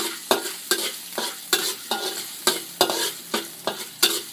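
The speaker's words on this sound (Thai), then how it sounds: "จากนั้นเราใส่ กระเทียม เคี่ยวมาเคี่ยวให้หอม" Chopped large garlic cloves fry in hot rice bran oil in a pan. A continuous close sizzle is broken by about a dozen sharp, regular scraping stirs, with no talk.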